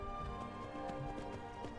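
A horse gallops in Skyrim, a quick, steady clip-clop of hooves over a dense, constant background of game sound.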